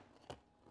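A single sharp crunch as teeth bite into a crunchy cookie, brief and close, in an otherwise quiet moment.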